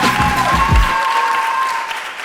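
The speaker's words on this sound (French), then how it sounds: "On les applaudit encore une fois." An audience on a television show applauds, loud at first under a brief voice, then thinning out over about two seconds.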